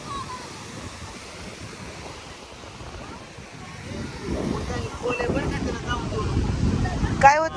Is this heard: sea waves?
yes